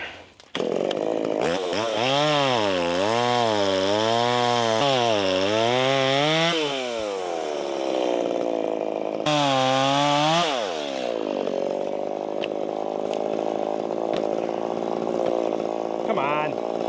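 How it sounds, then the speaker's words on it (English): A dull chainsaw roars loud and close while cutting a tree stump, its pitch rising and falling as the engine revs and bogs, pausing briefly before starting up again. "Let's use this dull chainsaw to just, I don't know, lop the stump off"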